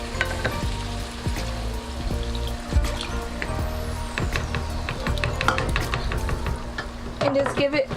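Water poured into a pan of homemade spaghetti Bolognese with beef bouillon and tomato paste, a steady sizzle and trickle over the cooking sound for several seconds.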